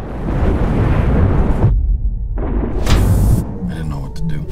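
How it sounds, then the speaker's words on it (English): A loud rumbling explosion blasts open a spaceship hull in the video game Solis, a dense low roar that drops out abruptly, returns, and fades into clicks and electronic chirps. "The explosion blasted open the hull."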